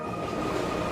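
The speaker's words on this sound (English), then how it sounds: "the number 3 train has arrived" A wooden toy train set rolls along its track, a steady low rumbling and rattling of wheels and carriages heard close and continuous for a moment, with no talk.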